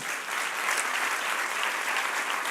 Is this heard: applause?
yes